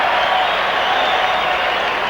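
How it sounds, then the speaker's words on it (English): Basketball arena crowd reacting to a referee's call during a Chicago versus Miami game: a broad, steady roar of cheering and applause, loud and unbroken for about two seconds. "Crowd approves with the call."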